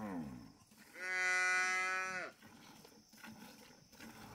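Cow mooing during milking, a single long, strong moo lasting over a second, with quieter farm noise around it.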